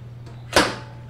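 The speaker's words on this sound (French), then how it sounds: "ça c'est le bruit du poussoir, prêt à mettre la chair à l'intérieur" A butcher's sausage stuffer pusher presses meat into a casing in a one-off soft thud with a short scraping hiss, over a steady low electrical hum in a charcuterie kitchen.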